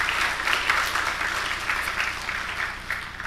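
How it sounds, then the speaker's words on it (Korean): Church congregation applauding during a sermon: continuous, moderately loud clapping from a crowd throughout, even and sustained without pauses. "정말 다시 한번 박수하겠습니다"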